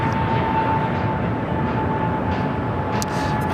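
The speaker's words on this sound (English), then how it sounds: "That American flight just taking off, heading to Dallas-Fort Worth, Texas." An American Airlines A321neo jet takes off at LAX, a steady broad engine roar with a faint high whine, heard from a distance and holding even throughout.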